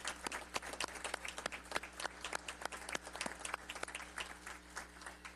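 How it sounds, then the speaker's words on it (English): An audience claps for a police officer's family at a ceremony, with steady, fairly sparse applause of separate sharp claps over a low constant hum, continuing for several seconds. "So let's give a big round of applause to the Resnick family as well."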